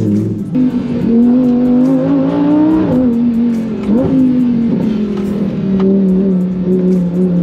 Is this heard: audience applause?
no